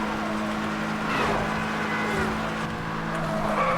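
A race car in Need for Speed: Hot Pursuit (2010) roars steadily at close range as it boosts with nitrous, its engine tone rising and shifting, with faint tire noise and a voice talking underneath.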